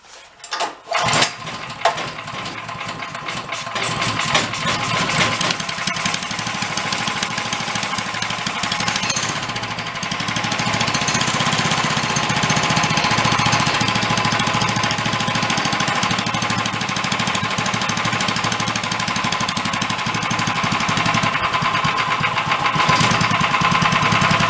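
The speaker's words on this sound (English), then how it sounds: "Gotta rev her up a little bit." A dune buggy engine runs loud and close with a harsh, rapid, knocking rattle. It sputters at the start, then holds a steady roar and revs up, with a few swells in intensity.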